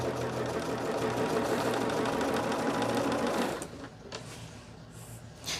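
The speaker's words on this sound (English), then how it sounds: "Yeah, I'm sewing" A sewing machine stitches quilt blocks at a steady, close, continuous whir that stops partway, leaving faint handling sounds.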